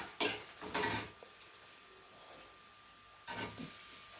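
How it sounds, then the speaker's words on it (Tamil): Tomatoes going into a cooking pan for a dhaba-style paneer dish bring a few quiet clatters of a utensil against metal, spaced apart over a low background hum. "இப்போ நம்ம தக்காளி போடலாம்."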